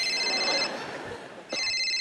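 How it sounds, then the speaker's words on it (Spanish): A telephone ringing indoors, a steady electronic ring that pauses briefly and starts again, loud and close with no talk over it. "me parece que está sonando tu teléfono"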